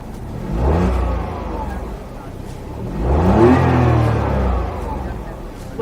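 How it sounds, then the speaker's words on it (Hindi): A Maruti Suzuki Swift's three-cylinder Z12E engine revs twice, each rise swelling to a raspy, slightly harsh growl before settling, close and loud, with no one speaking. "ये Z12E इंजन की आवाज थोड़ी कर्कश जरूर है, लेकिन ये इंजन खुद स्मूथ है"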